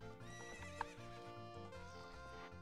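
Epona, the horse in the video game Ocarina of Time, gives a loud whinny over layered game music, with a faint clip-clop of hooves running alongside.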